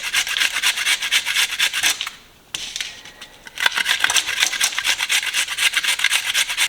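Leftover cooked duck is cut on a board for soup with a knife, giving rapid, steady scraping chops close up, broken by a short pause before the cutting resumes.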